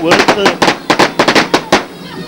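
Firecrackers going off at a Mouloud celebration in Cheurfa, Ouadhia, a rapid irregular string of loud sharp cracks and pops, close by and dominating the scene.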